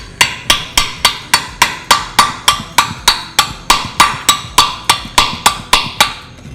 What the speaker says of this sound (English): Squeeze it in there and just hammer.